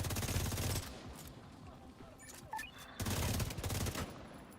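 Gunfire in a video game, two dense bursts of rapid shots, loud and close, with a quieter stretch between them that holds scattered shots and small electronic tones.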